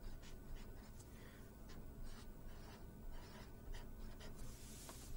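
Pen writing on paper during a biochemistry lecture on metabolic pathways, a soft continuous scratching with brief strokes and pauses, close and fairly quiet, with no talking.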